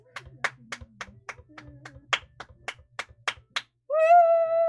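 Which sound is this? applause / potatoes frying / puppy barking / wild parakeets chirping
applause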